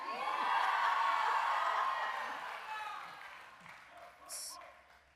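An excited hometown crowd in Stockton applauding and cheering for Dolores Huerta, loud clapping and whoops that swell at first, then gradually fade, with voices rising over it near the end.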